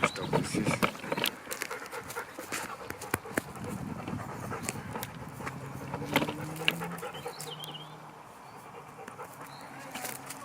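A stray dog pants close by in rapid, breathy bursts, joined by some snuffling and faint background noise, with no talking.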